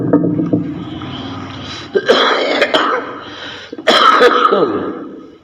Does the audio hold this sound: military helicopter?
no